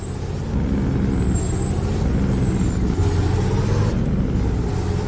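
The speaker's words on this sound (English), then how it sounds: "You gotta love the sound of engine compression brakes." A truck engine compression brake on a Nebraska farm road gives a loud, continuous rumbling bark, close by and steady for several seconds, with a faint high whine riding above it.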